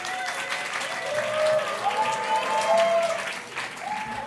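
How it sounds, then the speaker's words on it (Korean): Congregation clapping to welcome the preacher at a Sunday church service, moderate, sustained applause with a tonal background sound running beneath it. "오늘 설교자 여러분 격려의 의미로 큰 박수로 맞으시기 바랍니다"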